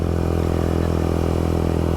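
A stock 2022 or newer Honda Grom motorcycle engine runs steadily and loudly up close, a continuous low engine drone with a strong rumble that holds at an even speed throughout.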